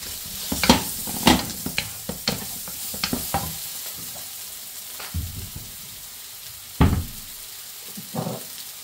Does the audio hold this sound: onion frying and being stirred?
yes